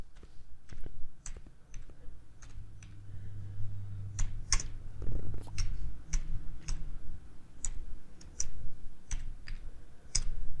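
Typing text on a computer keyboard in a text tool: irregular bursts of crisp key clicks, some quick runs and some spaced taps, close and fairly soft over a low background hum.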